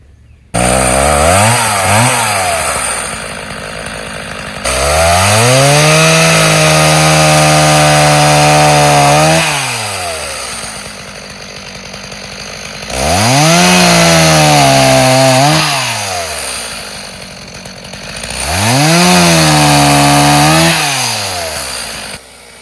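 A loud chainsaw revs and cuts up a tree in repeated bursts, the engine pitch dropping under load then rising again between cuts, close by.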